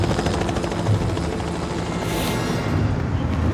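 Loud, steady helicopter rotor thumping with a roaring engine from a scene in the 2016 Marvel film Ant-Man, continuous and close with a brief burst of higher noise partway through.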